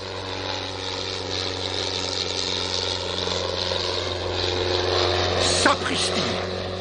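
A propeller aircraft coming in to land in a Thunderbirds film, heard as a continuous droning engine hum with steady tonal layers, slowly growing louder, with a sharp whooshing sweep near the end.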